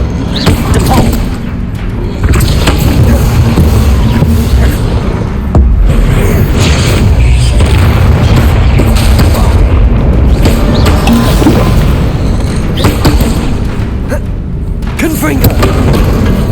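Depulsor spell blasts in the Hogwarts Legacy video game, a loud, continuous stretch of booming thuds and crashing impacts over a dense low rumble, with game effects and some voices mixed in.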